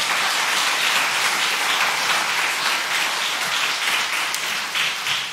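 A church congregation claps steadily for several seconds at a Sunday afternoon service, a dense, even wash of applause with no voices over it.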